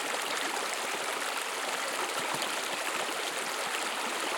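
Rushing water of a stream at the Radule waterfalls in the Corsican maquis, a loud, steady, close broadband roar with no break and no voices.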